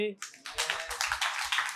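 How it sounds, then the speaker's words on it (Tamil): Audience clapping hands at a Christian preaching event, a brief burst of scattered claps that follows a short spoken word. "கைதட்டு."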